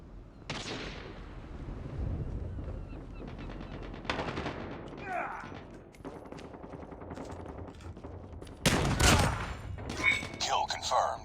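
Rapid shotgun and automatic gunfire in a video game, with loud bursts and sharp blasts spread through the clip and in-game voice callouts between them.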